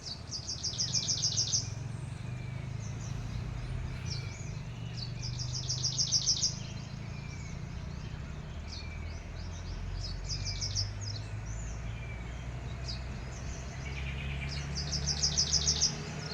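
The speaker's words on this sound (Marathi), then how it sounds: "मला पाखरांचा आवाज वगैरे कसं बरं वाटतं ना" Birds in a village garden chirp in repeated short bursts of rapid high trills at moderate distance, over a low steady background hum.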